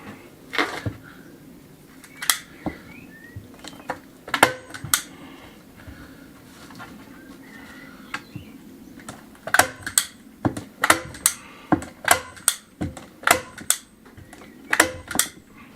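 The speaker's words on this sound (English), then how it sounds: "Here's my stapler. Let's whack them in." A stapler driving staples to fix material in place outdoors on a rural finca, a series of sharp, close clicks and snaps, some spaced out and others in quick bursts, heard alone over faint background noise.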